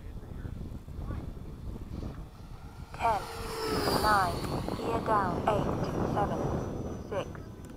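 FMS 80mm Hawk RC jet flying at a field after sunset, its turbine-fan whine rising into a steady, moderately loud drone past overhead, with wind noise and people talking throughout.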